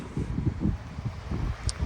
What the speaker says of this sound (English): It's raining today and kind of windy and cold